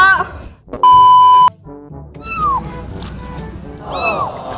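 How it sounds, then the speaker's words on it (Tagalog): A cat meows a few times, high and plaintive, mixed with an electronic beep tone and brief background voices. "Hala, may pusa."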